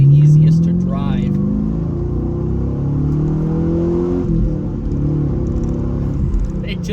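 A 2010 Chevrolet Camaro SS with a manual transmission pulls hard from inside the cabin, its deep engine note rising steadily through a gear before a shift, loud and rumbling, with a voice briefly over it.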